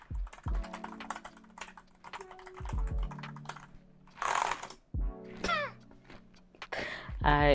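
Typing on a Corsair ultra low profile keyboard: bursts of quick, light key clicks in short runs, close up, with a cat meowing in between and a person talking briefly.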